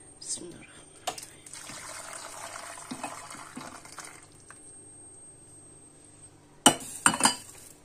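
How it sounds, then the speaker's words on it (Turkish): Cold water poured into a cooking pot for a cracked-wheat soup, a steady splashing stream running for several seconds and then easing off, with a few sharp clinks of the pot near the end. "Soğuk su koyacağım buna şimdi."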